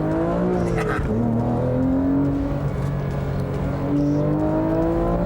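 A Porsche 911 GT3 engine heard from inside the cabin, revving toward 8,500 RPM: a loud, rising mechanical howl that climbs in pitch, dips with a gear change, then climbs again.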